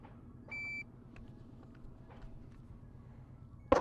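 A shot timer gives a single short electronic beep at a shooting range, clear and steady amid quiet outdoor ambience, followed moments later by a sharp gunshot at the end.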